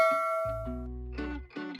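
A short notification bell chime: a bright ding that rings out, followed by a few quick tonal notes, clean and alone with no talking.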